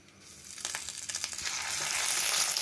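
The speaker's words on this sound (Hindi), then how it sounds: "तेल हमारा गरम हो चुका है और इसे हम डीप फ्राई करने वाले हैं" Hot oil crackles and sizzles as bread-crumb coated Bombay duck goes in to deep fry, a dense frying hiss that swells steadily louder and brighter over a few seconds, close up, with no voices.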